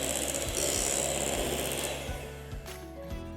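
An electric hand mixer beats eggless chocolate cake batter in a bowl, a steady close whirring motor with faint rhythmic knocks as the beaters hit the bowl, easing slightly toward the end.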